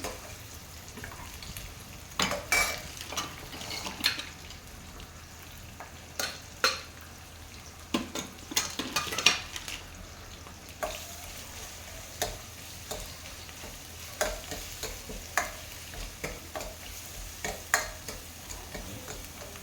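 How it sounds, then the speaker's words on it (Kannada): Onion fries with ginger garlic paste in a pan for a prawn curry, a quiet continuous sizzle overlaid with irregular clicking taps and scrapes of stirring, close and soft, no voices. "ಈರುಳ್ಳಿ ಸ್ವಲ್ಪ ಫ್ರೈ ಆಗ್ತಿದ್ದಂಗೆ ಇದು ಶುಂಠಿ ಬೆಳ್ಳುಳ್ಳಿ ಪೇಸ್ಟ್ ಹಾಕ್ಕೊಳ್ಳಿ."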